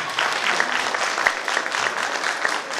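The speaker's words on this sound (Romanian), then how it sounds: "Aplauze, bravo!" An audience at a Romanian village festival of customs and traditions in Poduri, Bacău, claps steadily after a folk dance, with a few louder individual claps standing out from the crowd.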